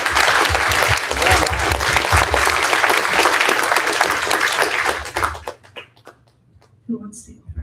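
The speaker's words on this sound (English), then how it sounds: "How about we just do one more round of applause for Mike?" A loud round of audience applause for Mike at a livestreamed talk, a dense burst of many clapping hands that holds steady for about five seconds, then thins out into scattered claps and a brief voice.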